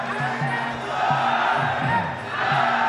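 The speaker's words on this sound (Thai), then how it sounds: "เริ่มมีเสียงเชียร์แล้วครับ" A crowd cheers at a Muay Thai fight, giving rising and falling shouts and whoops from a busy arena, with a commentator talking over the sustained roar.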